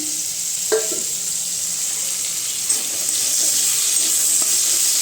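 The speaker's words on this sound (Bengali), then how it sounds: "আলুগুলো আগে একটু ভাজতে দিয়ে দিয়েছি" Potatoes fry in oil for aloo posto in a steady hiss of sizzling, with a few brief clinks and stirring knocks at close range and no talk.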